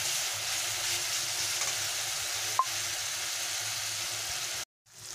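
Red chilli powder and spices frying in a pan for egg korma give a steady, moderate sizzle while they are stirred, and a single sharp clink sounds near the middle before the sound cuts out abruptly at the end.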